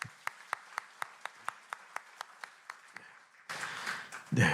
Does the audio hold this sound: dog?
no